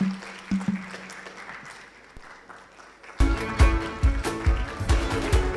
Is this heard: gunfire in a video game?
no